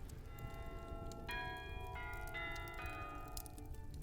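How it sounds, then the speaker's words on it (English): Bells cast at the world's oldest foundry in Italy ring out in overlapping, sustained metallic tones, several strikes layered and fairly close, with no talk over them. "bells forged at the world's oldest foundry in Italy"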